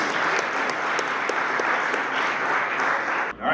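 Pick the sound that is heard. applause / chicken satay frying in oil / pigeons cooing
applause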